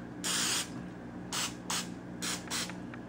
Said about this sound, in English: them a little spray oil.